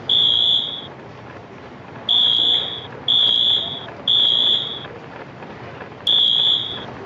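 A fire alarm in a large building sounds in repeated loud, shrill electronic tones, five bursts each lasting under a second, separated by brief gaps with faint room noise between them.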